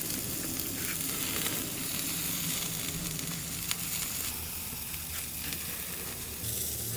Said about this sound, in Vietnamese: Mỡ chảy xuống nên than nó bị cháy lửa đó